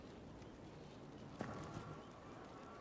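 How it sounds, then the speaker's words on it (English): Ferelden horses in the game Dragon Age Inquisition make a faint, brief hoof-clop and stir midway through a steady low ambient bed, with no talk heard. "I forgot about the Ferelden horses."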